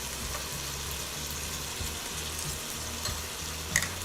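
Ingredients sauteing in a pan for Maharashtrian masale bhat, a steady soft sizzle and frying hiss with faint stirring scrapes, close and continuous, no voices.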